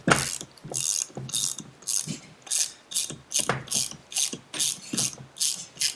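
A ratchet loosens bolts on an old floor jack, clicking in quick rhythmic bursts of about a dozen strokes, close and crisp with no talk.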